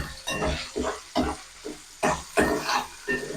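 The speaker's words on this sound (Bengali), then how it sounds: "আর একটু ভেজে নেব।" Chili chicken frying in a pan with salt and sauce, giving soft, uneven sizzling and stirring noises that rise and fall in short pulses.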